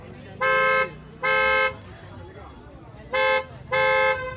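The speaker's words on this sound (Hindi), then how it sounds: "डुअल टोन हॉर्न जो है वो भी लगाया गया है।" A dual-tone car horn, Creta-style, fitted to a Tata Punch, honks four times, two pairs of sustained blasts, loud and close, with short gaps of quiet between them.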